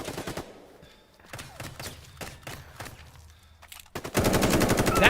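Gunfire in the survival MMO shooter The Day Before: several sharp shots spaced through the first seconds, then a dense, loud burst of sustained firing at the end, with no talk over it.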